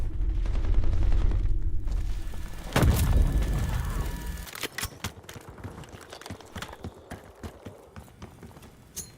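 A flashbang grenade bursts in a video game firefight, a loud sharp blast with a rumbling tail, followed by rapid crackling gunfire.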